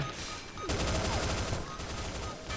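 Rapid automatic gunfire in the shooter game XSHOT starts abruptly as a dense, evenly pulsing burst, then thins and weakens toward the end as the magazine runs dry.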